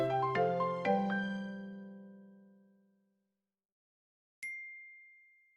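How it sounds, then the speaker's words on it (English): A bright phone-style chime rings out in a quick run of bell-like notes that fade slowly, then after a pause a single clear ding follows and rings on, with no voices. "Oh, I don't have any phones that make that chime noise."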